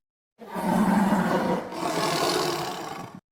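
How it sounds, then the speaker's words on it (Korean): A tiger roars in one long, rough, growling blast that breaks briefly and then rolls on before cutting off, loud and close with no voices. "꼭대기에 올라설 때쯤 호랑이 소리가 들려오지 뭡니까?"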